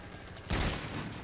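A single loud sniper rifle shot rings out in Call of Duty: Ghosts, a sharp, booming crack about midway that tails off into a lingering rumble over a steady game background.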